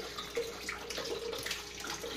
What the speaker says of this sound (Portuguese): Então eu vou colocar água de coco.